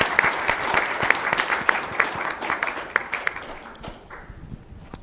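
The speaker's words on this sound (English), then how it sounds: "just another round of applause for our speakers" Audience applause for the speakers at a humanitarian energy conference session, a steady burst of many hands clapping that thins out near the end, heard alone without talk.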